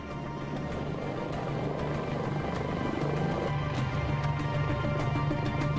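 A steady, loud rotor drone with a deep throbbing hum from a V-22 tiltrotor aircraft flying nearby, continuous throughout with no voices.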